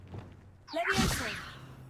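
A Levioso spell is cast in Hogwarts Legacy, a single short magical whoosh with a rising, shimmering swirl that swells and fades within about a second, faint and close.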